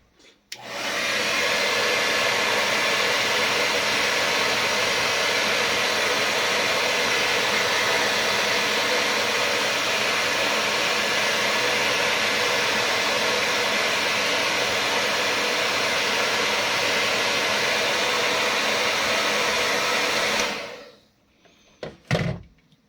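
A heat gun blows continuously and loudly for about twenty seconds, shrinking heat-shrink tubing over a spliced wire, then switches off, followed by a couple of faint clicks.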